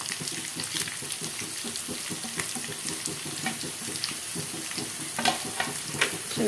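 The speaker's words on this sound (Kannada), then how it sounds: "ಇದನ್ನು ಚೆನ್ನಾಗಿ ಫ್ರೈ ಮಾಡ್ಕೊಳ್ಳೋಣ" Ingredients for a Mandya Mysore style mosappu sambar fry in a pan with a continuous close sizzle and crackle, accompanied by light stirring scrapes and no talk.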